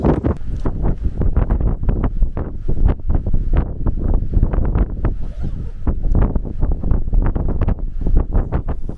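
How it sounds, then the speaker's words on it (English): Loud, strong wind buffeting the microphone in rapid roaring gusts, with a continuous rumbling rush throughout and no speech. "It's windy,"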